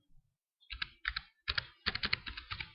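Someone types a name into an email account setup form on a computer keyboard. Quiet, close keystrokes come in short irregular bursts after a brief silence.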